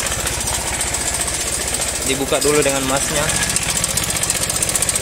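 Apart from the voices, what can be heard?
worn cam chain tensioner rattling in Honda Vario 110 engine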